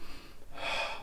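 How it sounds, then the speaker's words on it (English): A single deep breath drawn in through the nose during a calming breathing exercise, a soft close inhalation that swells briefly in the second half of the moment, quiet and alone. "Breathe in through your nose."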